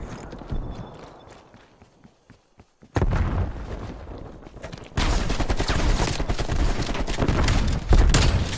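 Gunfire from the video game Call of Duty Cold War sounds as sharp shots and bursts that start faintly, then grow to loud, sustained rapid fire over a rumbling mix.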